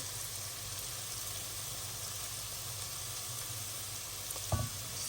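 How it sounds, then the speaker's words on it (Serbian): Onions sizzling in a pan as they fry for a creamy chicken and leek pasta: a steady, moderate hiss that runs unbroken, with a brief clunk near the end and no voices. "Kada nam se luk lepo upržio, sada je baš sladak."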